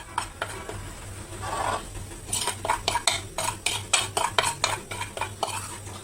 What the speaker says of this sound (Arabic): اقلب بهاراتي كده بالشكل ده